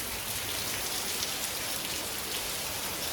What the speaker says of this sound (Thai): มีแดดออกแต่ฝนตก